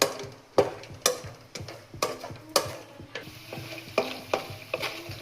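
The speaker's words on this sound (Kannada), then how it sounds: "ಗೋಡಂಬಿ ಸೇರಿಸಿ ಫ್ರೈ ಮಾಡ್ಕೊಳ್ಳೋಣ ಇದನ್ನು." Cashews frying in a pan for jaggery poha laddu, with a steady background sizzle broken by repeated sharp scraping and stirring clacks roughly every half second, close and alone with no talk.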